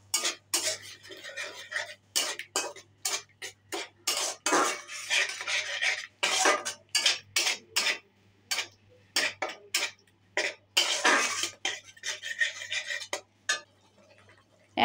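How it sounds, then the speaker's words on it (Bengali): Potato curry spices with tomato and yogurt are cooked down over low heat while a spoon scrapes the pan in a steady run of short, rhythmic strokes, close and clear. "দিয়ে একটু গ্যাসের আঁচটা কমিয়ে আস্তে আস্তে করে কষিয়ে নেব।"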